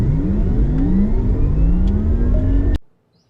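A Porsche Taycan 4S electric sports car drives by close up, its rising synthetic whine climbing steadily in pitch for nearly three seconds before cutting off abruptly into silence.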